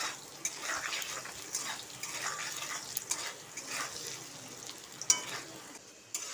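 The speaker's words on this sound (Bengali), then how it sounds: "নুনটা দিয়ে আলুটাকে ভেজে নিচ্ছি।" Diced potatoes frying with salt in a pan, a soft continuous sizzle with gentle stirring scrapes and an occasional sharper tap, fairly quiet and without speech.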